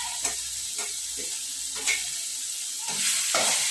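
Spices, chili and turmeric are stirred into green tuvar dal in a pan, giving soft scraping strokes at a steady rhythm over a constant low sizzle, close and fairly loud, with no talking.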